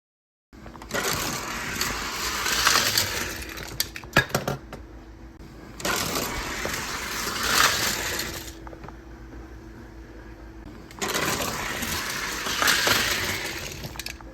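A big multi-car wreck in a NASCAR racing video game at Darlington, the Bass Pro Shops 350: three loud surges of scraping, crunching impact noise with roaring engines, separated by brief quieter gaps.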